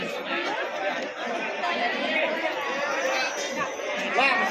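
Dense crowd chatter fills a busy temple on a Tuesday, with many overlapping voices forming a steady, close babble and no single speaker standing out.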